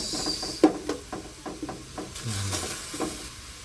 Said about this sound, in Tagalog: unahin natin yung karne. Kumbaga, ibiprito muna natin yung karne